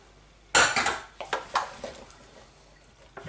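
Squirrel meat being stirred through in a pan for a squirrel and dumpling dish, heard as a burst of close metallic scrapes and clinks from a utensil that taper into a few lighter knocks, with no talk.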